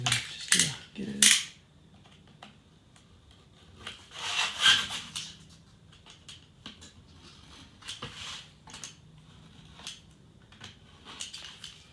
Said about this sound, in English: I'm going to use the sanding knife just to get it in.